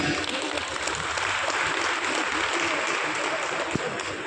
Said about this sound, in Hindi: आप सब लोग सबके लिए ताली बजाएं